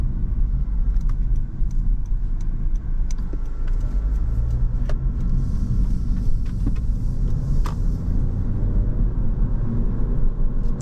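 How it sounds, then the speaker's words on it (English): A 2024 Honda Civic Sport Hatchback cruising on the road, with a steady low engine and road rumble, faint interior rattles and jingling on top, and no talking. "Although the car is not the most powerful, it feels nice to drive."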